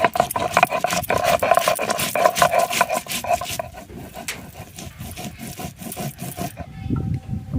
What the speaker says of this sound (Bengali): এবার আমি জিরে আর ধনে একসাথে বেটে নেব।